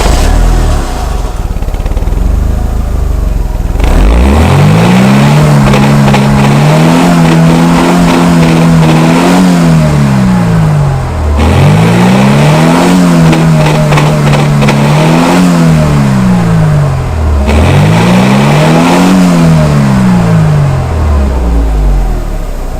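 A 1990 Mercedes 230 CE W124 coupe with its four-cylinder engine and four-speed automatic, revved three times from idle, each rise climbing, holding and falling back, loud and close with no talking.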